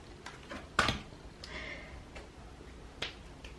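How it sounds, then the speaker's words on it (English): Hand clapping in a quiet room: one sharp clap stands out near the start, followed by a few softer, scattered claps, with no talking. "I'm clapping. I'm just excited."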